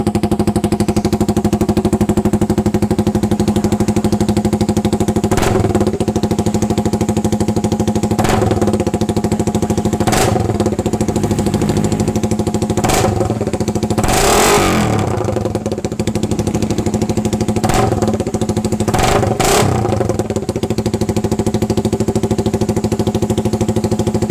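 Motorcycle fitted with a loud 74 tube-type exhaust pipe, idling close with a raspy steady drone and several sharp throttle blips revving up and dropping back.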